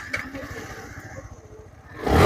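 A Dark Knight Black Version 3 motorcycle in a showroom fires up, with a brief low engine idle leading to a sudden loud surge of revving at the end.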